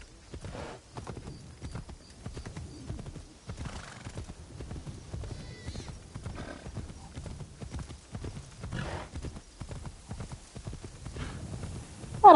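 Horse hooves clip-clopping in the video game Assassin's Creed Shadows, a steady rhythmic trot at moderate volume with faint snorts and a brief whinny.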